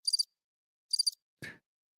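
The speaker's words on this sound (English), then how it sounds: "cricket sounds while we take a look at this." Cricket sound effect: two short bursts of high, rapid chirping, each made of quick pulses, set in silence, followed by a brief broadband thump.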